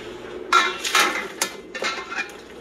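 Noodles and eggs are drained into a colander, heard as a few close metallic clanks and clatters of a pot against the colander, with light splashing between them.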